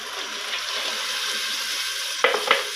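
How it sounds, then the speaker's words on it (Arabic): Tomato juice poured into a hot pot with red chili harissa while cooking stuffed eggplant, giving a steady close hiss and sizzle with two sharp splashy bursts near the end. "قوم جايبه معلقه عندي من هريسه الشطه كده حمراء اهو، وبروح حطاها، وعلى طول بنزل بعصير الطماطم اهو."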